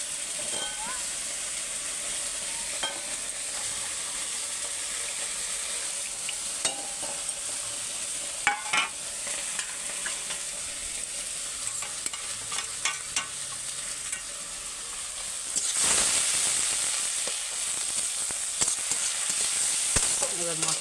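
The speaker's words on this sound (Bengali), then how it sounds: "টমেটোটা পেঁয়াজটা সুন্দর করে ভেজে নেব" Chopped tomato and onion frying in a pan, a steady hissing sizzle with occasional stirring knocks, swelling louder and brighter near the end as steam bursts up.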